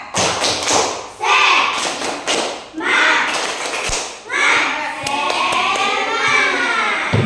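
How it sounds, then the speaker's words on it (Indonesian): An Indonesian primary-school class and teacher perform a 'tepuk semangat' clapping chant in the classroom, with rhythmic claps and thuds mixed with children's chanted voices in repeated loud bursts. "Coba kita tepuk semangat dulu ya."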